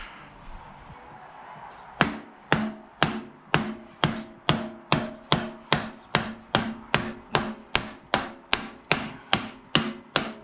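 Steady metallic hammer blows on a motorcycle fork part of a 2014 Kawasaki ZX-6R, about twenty sharp strikes in an even rhythm, close and loud, after a brief moment of low background noise.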